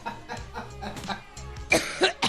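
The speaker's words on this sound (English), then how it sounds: "God, she's coughing so much." Someone talks briefly, then breaks into a couple of hard, close coughs near the end.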